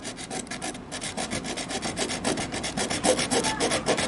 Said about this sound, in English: I'm just gonna grab the little hacksaw and cut it right down the